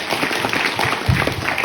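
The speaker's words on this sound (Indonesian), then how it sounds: "Tepuk tangan untuk anak-anak kita." An audience claps for children at an Islamic boarding school event, a short burst of scattered clapping with a few louder claps near the end.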